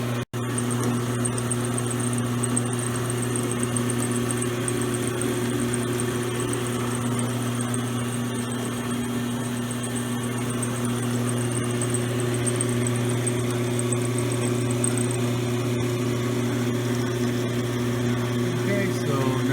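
A milling machine cuts a slot in a bike axle adjuster with a steady, even mechanical hum and drone that runs unbroken throughout, while someone talks over it.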